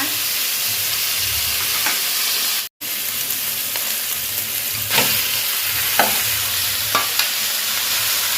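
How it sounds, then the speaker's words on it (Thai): Pork stir-fries in a hot pan with a loud, dense, continuous sizzle and hiss, spatula scrapes and taps recurring throughout, a momentary cut near the middle, no talking. "ผัดให้หมูสุกเลยนะคะ เราให้หมูสุกก่อนนะคะ"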